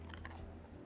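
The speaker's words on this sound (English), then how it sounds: "And the Crunch." A short, close crunch of teeth biting into crispy, hard-skinned thick-cut pork belly, a few brittle crackles in the first half second over a steady low hum, then quiet chewing.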